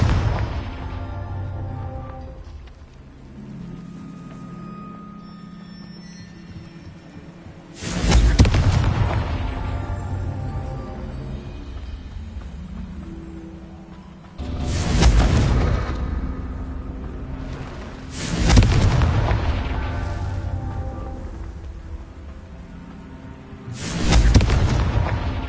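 Repeated Confringo spell explosions in Hogwarts Legacy: four loud, booming blasts spaced several seconds apart, each with a sharp attack and long rumbling decay over a low background of game ambience.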